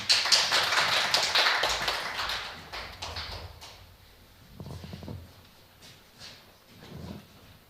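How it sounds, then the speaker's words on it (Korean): Audience applause welcoming an education official at a high school research report meeting: dense clapping for about three seconds that fades away, followed by scattered taps and faint room noise. "박수로 맞이해 주시기 바랍니다."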